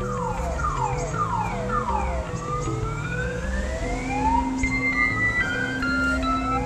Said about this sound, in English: a background sound of an alarm to add to the enjoyment of a video podcast